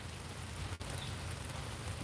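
Steady light rain falling on a surface, an even hiss with no clear change in intensity across the short stretch.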